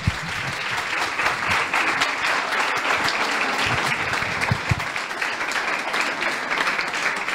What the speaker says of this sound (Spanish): Un aplauso para el doctor Ballester.